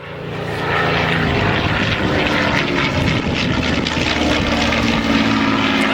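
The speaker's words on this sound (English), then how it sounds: "when the airplane goes ripping by to be quiet for a spell and let folks hear the engine" A Supermarine Spitfire roars past in a loud, steady propeller drone. Its engine fills the whole stretch with a broad, rough rumble, and no voices are heard.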